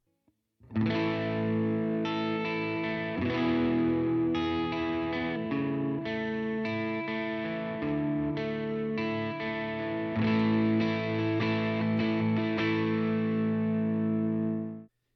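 Distorted electric guitar plays sustained chords and riffs through a Ruby amp emulator, thick and loud, ringing out continuously before cutting off at the end.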